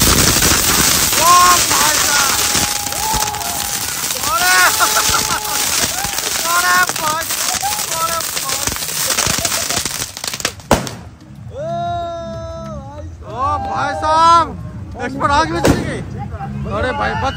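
Firecrackers at an Indian wedding procession fire off in rapid bursts of sharp cracks and bangs, loud and close, in quick succession, then sparser pops follow, with voices in the background.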